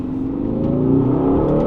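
An Aston Martin DBX 707 prototype SUV engine revs steadily higher on the road, a loud continuous whine that climbs in pitch as the vehicle accelerates.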